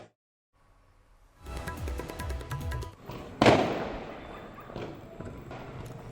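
Firecrackers set off at Sonar Fort in Jaisalmer during a street celebration of a cricket win: a crackling rattle of small bursts, then one loud near bang followed by lingering, echoing crackle over distant crowd noise.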